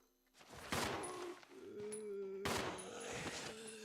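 Pistol gunfire in the Resident Evil 0 video game, a run of sharp shots with two especially loud bursts standing out over continuous game noise.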